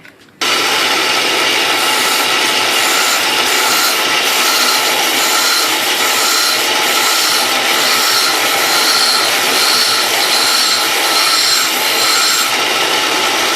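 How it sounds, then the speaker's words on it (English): An old air chisel bit being ground to a point: a loud, continuous, harsh grinding rasp that starts abruptly and runs steadily close to the mic, with no talking. "I cut it off, and then I grind the end of it to a point."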